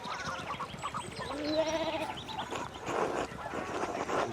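Sheep bleat repeatedly on a video game farm after a fallen fence rail, several wavering calls overlapping at moderate loudness, with other soft animal noises around them.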